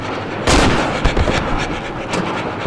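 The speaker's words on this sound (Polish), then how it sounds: "Pociąg słychać." Loud, steady rumble of a train in the horror game Cry of Fear, with a sharp heavy clank near the start and further thuds and rattles running through it.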